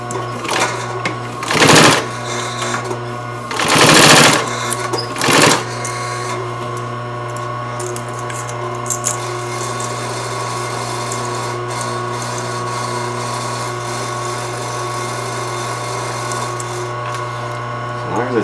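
Sewing machine stitching a seam along the side of a hat, a steady continuous mechanical whir running close, after a few short bursts at the start, with a voice speaking over it.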